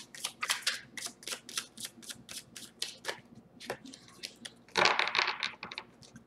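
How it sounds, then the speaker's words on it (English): Tarot cards being shuffled by hand, heard as a quick, close run of crisp riffling flicks and snaps, followed after a short pause by a louder, denser burst of shuffling. "Shuffle one more time."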